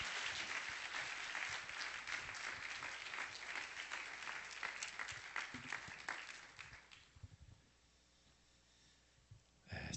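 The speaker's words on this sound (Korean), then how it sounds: "박수로 우리 목사님 모시겠습니다." A church congregation at a Korean service bursts into loud, sustained applause to welcome the pastor to the pulpit, clapping for about seven seconds before fading out into near quiet with a brief sound at the very end.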